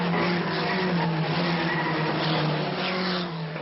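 A Peugeot 505 Turbo slides wheel to wheel around the Monaco circuit, its engine droning loud and steady while the tires squeal through a long, sustained skid.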